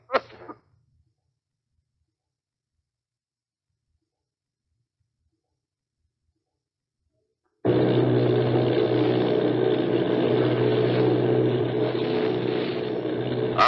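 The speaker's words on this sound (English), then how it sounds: "Army bombing plane" A steady, loud roar of droning army bomber engines in a 1938 radio drama, starting abruptly after a long silence and continuing unbroken to the end.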